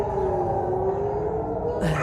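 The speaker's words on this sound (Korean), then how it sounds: "지금 제가 그 전쟁 때 저렇게 사이렌이 울렸습니다" Air raid siren wailing in Israel during wartime, recorded from inside a living room: a steady sustained tone that holds at one pitch, then drops sharply near the end.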